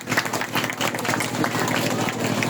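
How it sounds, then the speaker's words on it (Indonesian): An audience clapping at a school farewell ceremony, a dense burst of applause from many hands lasting a couple of seconds, fairly close and even in level. "Ini patut kita apresiasi dan tepuk tangan Bapak Ibu."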